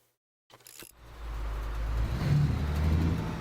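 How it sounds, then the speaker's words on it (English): A truck engine in the Alaskan Road Truckers video game starts after a short silence and settles into a loud, steady low rumble that swells slightly as it runs, with no talk over it. "Let me know if the truck is still too loud"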